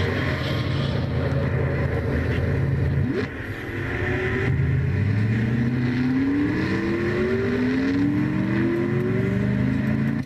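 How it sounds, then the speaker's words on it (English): In a racing video game, a race car engine sputters, briefly drops out, then revs back up in repeated rising sweeps as it struggles to restart. "Trey barely able to get his car to start back up, but that engine just about slowly dying on Trey's car"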